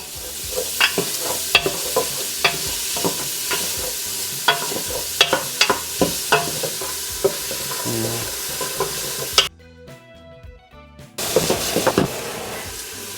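Ingredients for beef mami get sautéed and stirred in a hot pan over medium heat, with a steady sizzle and rhythmic clattering utensil strokes, a brief near-silent gap, then stirring resumes.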